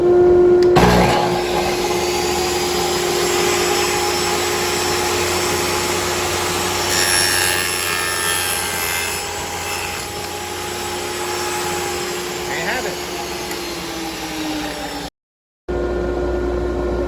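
A table saw runs with a crosscut sled, a loud steady whine held for about fifteen seconds while cutting wood, then cuts off abruptly.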